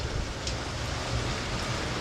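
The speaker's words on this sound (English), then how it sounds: "That is the rain that I am not in right now" Steady rain falling outside, a dense even hiss that holds at a constant level throughout with no talking.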